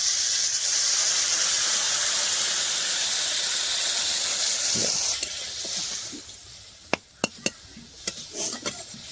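Mustard and cumin paste gravy in a pan, a loud steamy hiss and bubbling that fades midway, followed by a few sharp clinks of a utensil against the pan.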